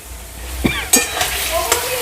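Pointed gourd curry being stirred in a pan: a spatula scrapes and clinks against the metal in a few distinct strokes over a steady background sizzle, with no talking.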